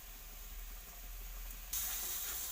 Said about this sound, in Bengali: সব দিয়ে এটা ভালোভাবে কষতে থাকবো।